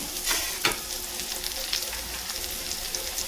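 Washed mushrooms sautéing in hot oil for a mushroom curry, a steady close sizzle with a few sharp crackles and pops, no voices.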